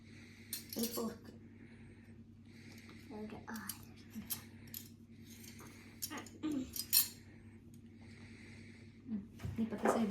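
Forks, spoons and knives are set down one by one on a table as a child learns table manners, giving light clinks and taps scattered between soft voices.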